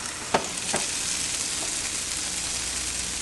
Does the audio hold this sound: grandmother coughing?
no